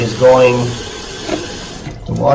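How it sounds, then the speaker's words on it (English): Water from a toilet tank's fill valve runs into the overflow tube and down into the bowl, a close, steady trickling rush heard briefly beneath someone talking. "is running into the overfill tube there, which goes down into the bowl"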